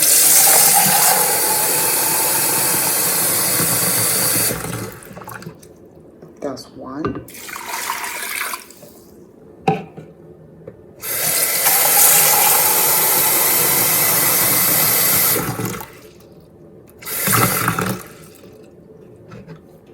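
Water gushes from a tap into a pot of brown rice in two long bursts with shorter splashes between, while a person speaks briefly.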